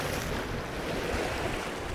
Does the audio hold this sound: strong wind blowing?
yes